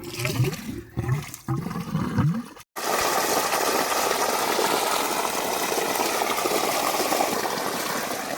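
Well water pumped out to irrigate a maize field: after a few brief thumps and a short cut-off, a loud, steady rushing gush of pouring water fills the rest, close and constant.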